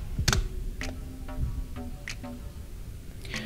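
Quick, uneven clicks of a computer keyboard as a pip install command is typed, isolated keystrokes close by and fairly loud, with no talking.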